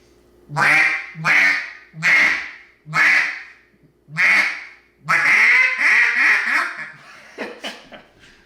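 Five evenly spaced, loud nasal quacks from a duck call, followed by a fast chattering series of quacks that fades out.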